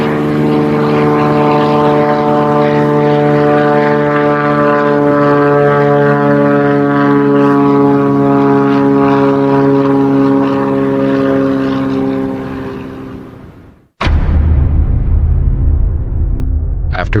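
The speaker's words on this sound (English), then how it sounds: "After flying 2 hours over dense jungle, the plane reaches the Guiana Highlands." A propeller airplane flies over dense jungle toward the Guiana Highlands in the dry season, its engine droning loud and steady with strong harmonic tones. The drone fades out near the end, then a short burst of louder noise follows.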